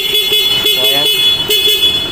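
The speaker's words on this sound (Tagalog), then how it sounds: "gumana na lahat yung mga horn dito" A dual horn added to a Honda Beat FI 110cc scooter honks in several short, loud, close bursts, its bright tone sounding alone.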